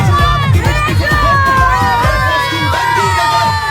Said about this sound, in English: The children of each house are excited for their wins, cheering their classmates.